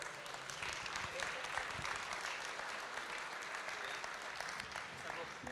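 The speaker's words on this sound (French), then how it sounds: "sous les applaudissements déchaînés de la salle en délire" Audience applause filling a hall at a national ambulance and medical transport convention in Reims as speakers join the stage, a steady dense clapping wash throughout with faint voices mixed in.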